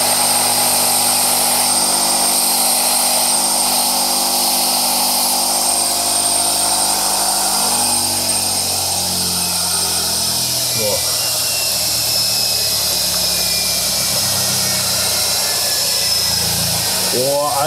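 Power grinder sanding a part of a Zündapp Sport Combinette moped in a workshop, a loud continuous whining drone that shifts pitch as the tool is pressed and moved, running throughout without pause.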